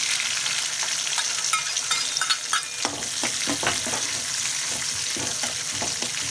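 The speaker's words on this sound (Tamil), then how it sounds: "இப்போ இதில் வெங்காயத்தையும் பூண்டையும் சேர்த்துடலாம்" Onion and garlic sizzle in hot oil after dried red chillies have fried, cooking for a spinach and lentil kadaiyal; a steady, close frying hiss is broken by sharp clicks and scrapes of stirring.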